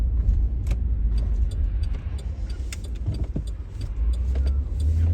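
Car driving through suburban streets of Memphis, Tennessee, giving a steady low road and engine rumble with faint interior clicks and rattles, no talk.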